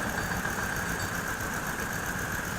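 The motor of a laboratory vibrating table used in a transmissibility experiment runs at raised speed, giving a steady, even mechanical hum with a constant whine and no pauses or voices.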